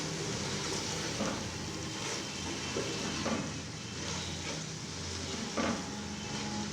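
Fenugreek leaves stirred into peas and vegetables in a hot pan make a steady sizzling hiss with soft scraping and stirring knocks, close and continuous.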